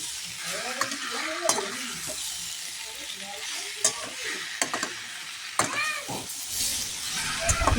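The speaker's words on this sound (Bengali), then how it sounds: "আমি ভালো করে মশলার সঙ্গে চিচিঙ্গা আলুটা ভালো করে নেড়ে নেব।" Snake gourd and potato pieces with spices are stirred in a hot pan, a spoon scraping and clattering in irregular strokes over a steady close sizzle of frying.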